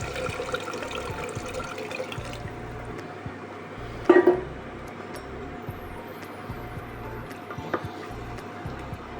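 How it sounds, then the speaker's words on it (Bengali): About a cup of water is poured into spiced meat in a pressure cooker, a brief close splash near the middle over a quiet kitchen background. "এবার আমি দিয়ে দেবো এক কাপ মতো জল"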